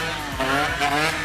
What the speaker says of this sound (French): Elle a l'air de bien marcher ta moto.